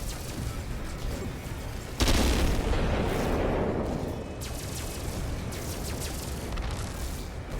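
Torpedo explosions in the video game No Man's Sky, heard from a distance: a sustained low rumble that swells into a big boom midway and then rolls on as a long, deep roar.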